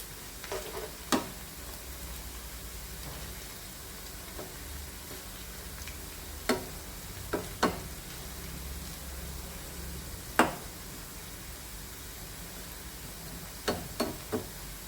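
Potatoes frying in a pan give a steady, quiet sizzle and hiss throughout, with scattered sharp ticks and pops from the oil.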